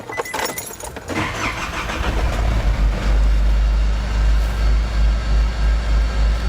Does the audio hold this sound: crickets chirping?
no